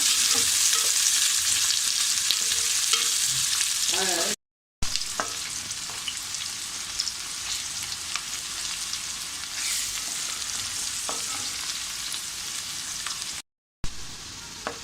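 Onions for chicken biryani frying in oil until brown, a dense continuous sizzle close up and steady, briefly cut out twice, with occasional stirring scrapes and no voices.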